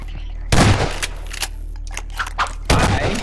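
Gunfire in Garry's Mod on a horror map, two loud sharp bursts of shots a couple of seconds apart with smaller isolated pops between, over a steady low hum.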